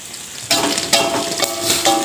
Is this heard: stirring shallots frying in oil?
yes